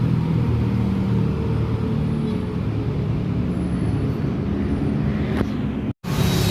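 Dense road traffic on EDSA during rehabilitation works, with a steady close roar of car, bus and truck engines, tire noise and a brief air-brake hiss, continuous for several seconds before a sudden short cut.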